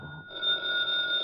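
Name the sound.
telephone ringing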